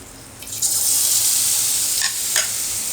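Boondi batter poured through a ladle into hot oil for sweet boondi, bursting into a loud, steady sizzle that holds close and continuous, with a few brief sharper crackles near the end.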